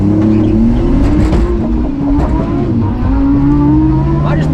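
A cheap drift car launches hard off the line, its engine loud and close, revving and climbing through gears, with a brief drop between shifts and some tyre noise under the roar.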